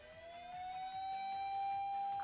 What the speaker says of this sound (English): the siren approaches in no time